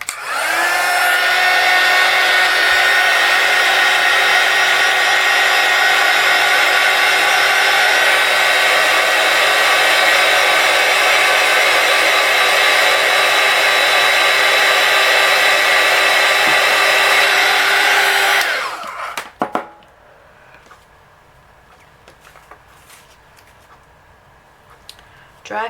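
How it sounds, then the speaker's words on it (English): A heat gun roars loudly and steadily close by while drying mixed media paint, cutting off abruptly near the end and leaving quiet handling sounds. "I'm going to blast this with a heat gun"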